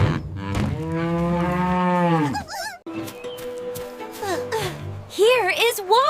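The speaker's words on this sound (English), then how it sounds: "Nice cow." Cartoon cow mooing, a long loud drawn-out moo up close, followed by brief other sounds and voices speaking.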